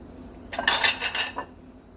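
Dishes and cutlery clink and scrape for about a second as chicken cordon bleu casserole is served onto a plate, close and fairly loud, then stop, leaving a quiet room.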